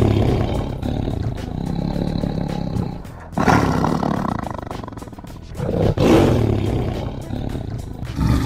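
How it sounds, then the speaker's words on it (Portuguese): Deep, rumbling tiger roars, a big carnivorous cat, repeated in several long bursts with short pauses between, loud and close with no other sounds. "O tigre é um mamífero carnívoro considerado o maior felino da natureza."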